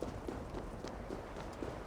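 Horse hooves in Assassin's Creed Valhalla, free roaming around Eurvicscire: a steady, quick clip-clop of a galloping horse, fairly close and continuous, with no voices.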